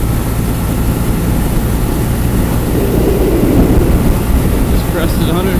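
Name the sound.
Triumph T-100 motorcycle with sidecar riding downhill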